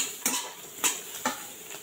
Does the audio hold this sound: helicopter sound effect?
no